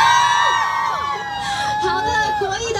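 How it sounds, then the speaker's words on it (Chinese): A crowd cheers and screams at a Taichung store opening event, sustained noisy enthusiasm with a singing or shouting voice carried over it and loud tonal sounds throughout. "我们掌声尖叫，再来一次"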